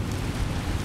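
Steady rain falls in the video game Skyrim, a continuous soft hiss with a low rumbling undertone that holds evenly through the short moment, with no voices.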